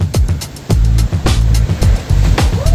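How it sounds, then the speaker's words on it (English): Sea water splashes repeatedly over the bow of a sailboat moving briskly through swell off New Zealand's north coast, near Whangamumu, with loud close bursts of spray over a steady rush of wind and water. "Got water coming over the bow."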